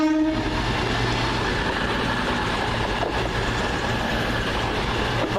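A train running from Manchester Piccadilly to Bournemouth rushes loudly past with a steady roar and rattle, its horn sounding briefly at the start.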